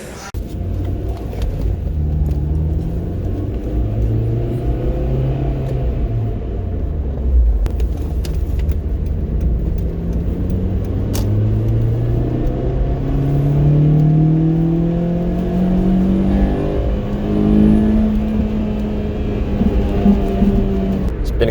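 A 2005 Acura RSX Type S on coilovers drives home after a realignment. Its engine rumbles steadily from inside the cabin, and the pitch rises and falls through gear changes over a constant road roar.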